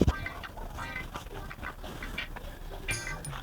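Chickens cluck in short, faint bursts over a busy, low-level background of scattered clatter and murmur, with a sharp knock at the very start.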